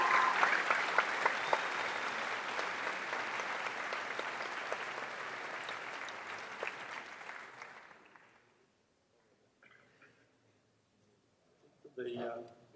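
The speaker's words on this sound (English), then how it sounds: "Please give yourselves a round of applause." Graduates at an ACU graduation ceremony in Brisbane give a dense, loud round of applause that holds steady for about eight seconds, then fades out into near silence broken by a few faint, scattered sounds.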